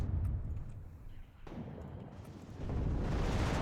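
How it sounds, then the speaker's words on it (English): Explosions in the WARNO strategy war game: deep, rolling booms rumble at a distance, dip briefly, then swell back into a heavier, sustained roar, with no one talking. "I heard like an explosion"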